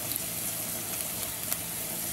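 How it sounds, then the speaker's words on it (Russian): Onions for a mushroom soup fry in a pan, giving a steady crackling sizzle with small pops, close and moderately quiet with no talking. "Зажарочка у нас жарится."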